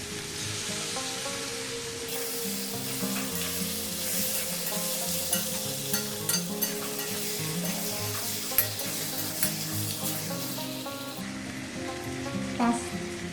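Chicken and a large chopped tomato frying in a pan for an elephant yam and chicken curry, a steady loud sizzle with stirring scrapes and clinks running throughout, no talking.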